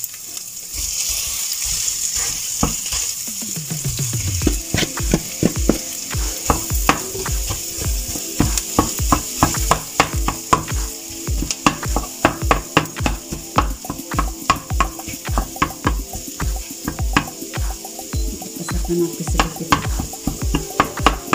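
Minced meat stir-frying in a pan for mie goreng makes loud, fast, repeated scraping and clattering of a spatula over a constant sizzle, with no voices.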